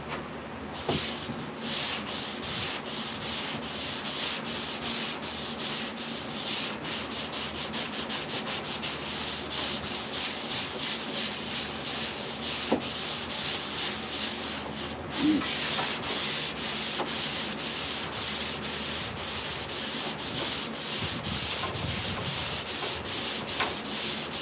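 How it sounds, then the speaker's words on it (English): A dried finish is scraped away from a wood surface in steady, rapid back-and-forth rasping strokes that continue without pause. "Really, we're scraping every bit of it off."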